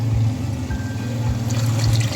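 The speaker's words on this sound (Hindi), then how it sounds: "यहाँ पे मैंने तकरीबन 1 लीटर पानी इसमें शामिल कर दिया है।" About a litre of water is poured into a pot of desi chicken curry shorba, a close, loud watery slosh with low rhythmic glugging pulses and no voices.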